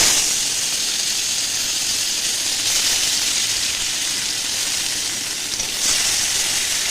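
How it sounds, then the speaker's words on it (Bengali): Chopped onion frying in hot oil left over from frying small Ganges mourola fish, a steady loud sizzle and hiss that holds evenly throughout with slight swells. "এবার দিয়ে দিচ্ছি একটু পেঁয়াজ কুচি ওই তেলেই মাছ ভাজার তেল"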